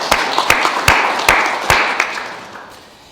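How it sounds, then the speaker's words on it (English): Scattered hand claps from an audience at a school S5 and S6 excellence awards ceremony. About half a dozen sharp claps ring out and then thin away over a few seconds. "we'll give him a wee clap"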